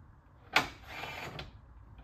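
A digital torque wrench tightening on a work station, a sharp click followed by a short, steady mechanical whir of under a second, then quiet room tone.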